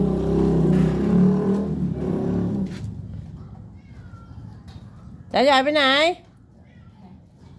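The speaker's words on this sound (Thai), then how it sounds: "เสียงแมวที่ไหนร้องวะ" A cat gives one loud, wavering meow partway through, after a person talks and amid faint background noise.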